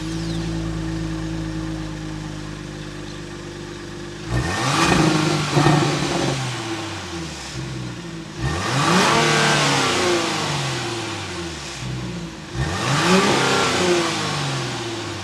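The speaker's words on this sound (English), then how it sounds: "We gotta go inside, give it some revs so you can hear that exhaust note." A 2023 Genesis GV80 3.5t Prestige with a 3.5-liter twin turbo V6, idling then revved three times, each blip rising and falling in a loud exhaust note before settling back to idle.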